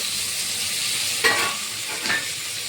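Chopped onion, tomato and drumstick pieces drop into a hot pan of frying tempering, giving two brief bursts of sizzle and stirring over a steady background hiss, close and moderately loud, with no talk.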